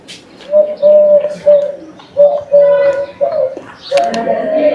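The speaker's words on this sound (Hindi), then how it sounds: "ये जो आवाज़ आ रही है ना पक्षी की" A pigeon coos in a village in Jalore, Rajasthan, repeating soft rhythmic phrases of steady low notes several times in a row, close and clear, with faint other birds and background sounds near the end.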